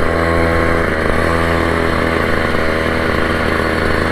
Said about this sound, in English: Motor seems to be running great though.